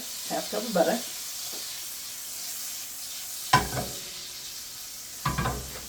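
Butter and sugar cooking in a non-stick pan give a soft steady sizzle, broken by a few louder clattering bursts of stirring or utensil contact near the start and later on.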